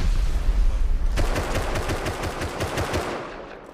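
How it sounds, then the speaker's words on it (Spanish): Rapid bursts of automatic gunfire in the video game Rust rattle in quick succession, loud and dense, with no talking over them. "¿Quién está tirando tiros?"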